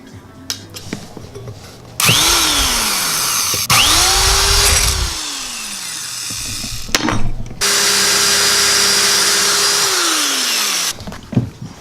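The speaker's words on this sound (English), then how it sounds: "we're gonna drill a hole through both" A power drill whirs in several long bursts, pitch sagging as the bit bites into a metal bracket, with short pauses and clatter between runs.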